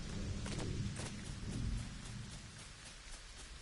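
Rain pours steadily in Fortnite Chapter 5 at night while thunder rumbles in low, uneven rolls. The storm stays fairly quiet, with the heaviest rumbling early on and then easing to a softer wash of rain, with no voices.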